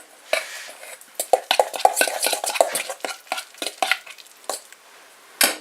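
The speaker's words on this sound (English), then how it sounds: "get a fork and mix this up really" A fork mixes a dog snack in a bowl, with brisk, irregular scraping and clinking of metal against the dish, close and fairly loud with no voices.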